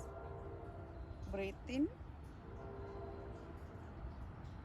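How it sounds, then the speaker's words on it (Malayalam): A train rumbles past in the distance and gives two short horn notes, heard under a voice leading a warm-up exercise session. "ട്രെയിനിൻ്റെ ശബ്ദം ഭയങ്കരമായിട്ട് ശല്യപ്പെടുത്തുന്നുണ്ടെന്ന് തോന്നുന്നു."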